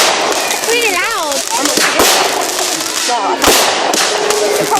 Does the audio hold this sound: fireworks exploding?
yes